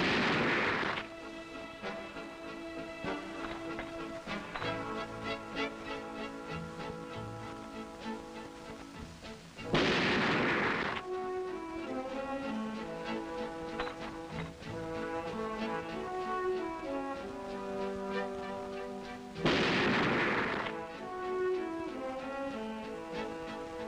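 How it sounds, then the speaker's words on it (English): Three booming rifle shots from a Remington Model 700 bolt-action rifle, fired at 100 yards, ring out several seconds apart over steady background music. "Each shooter will fire three shots at 100 yards"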